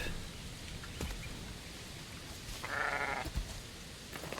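A sheep in the survival game Aloft bleats once, a short nasal call in the middle of a quiet in-game ambience with soft background noise.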